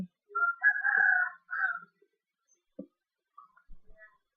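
Chickens in the Minecraft video game give a few short, quiet clucking calls, a brief cluster followed by scattered faint chirps in otherwise silent surroundings.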